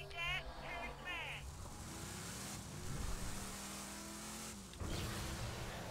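A vehicle drives in the video game Borderlands 2, its engine a continuous drone with a brief surge, while a voice talks over the opening moments.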